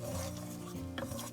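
A spoon scraping and stirring through a frying tomato and oil masala with salt added, a short close rasping sound over a steady sizzle.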